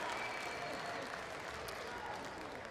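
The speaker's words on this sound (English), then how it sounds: "give them a big round of applause" Clapping from the crowd at the Agribition ranch rodeo for a team that just finished its run, a steady, moderately loud patter of many hands in an arena, with faint voices mixed in.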